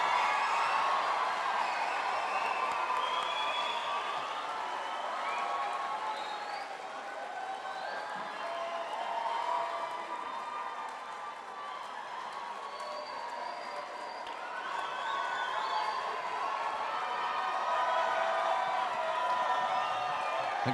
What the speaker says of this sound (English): Give a round of applause to the people.